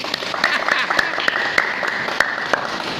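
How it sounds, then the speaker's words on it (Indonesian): Congregation at a church service claps during a sermon: scattered sharp hand claps pop up irregularly beneath a voice, which keeps talking throughout. "Boleh tepuk tangan."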